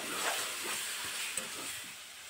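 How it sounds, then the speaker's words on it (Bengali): Fried potatoes stir-fried in spice masala for a potato pangasius fish curry sizzle with a steady, dense hiss, and faint stirring scrapes run beneath it throughout. "ভেজে রাখা আলুটা দিয়ে আরও কিছুক্ষণ কষিয়ে নেব।"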